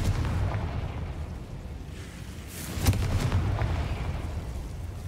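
A Confringo explosive spell cast in the video game Hogwarts Legacy: one sharp burst lands near the middle over a low, rumbling game backdrop, with softer thuds around it.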